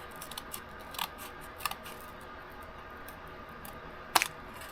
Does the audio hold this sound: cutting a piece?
yes